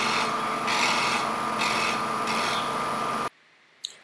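Sandpaper rubs against a wooden sphere spinning on a lathe in a jam chuck, a steady, close abrasive hiss with faint pulsing for about three seconds, then it stops abruptly, leaving near silence and one small knock.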